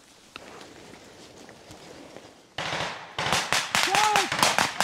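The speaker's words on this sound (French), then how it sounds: "Oh putain, ça tire." Gunfire during a French army assault exercise on a village. A quiet outdoor stretch gives way to a hissing burst, then a loud rapid series of sharp, close shots. A brief voice is heard among the reports.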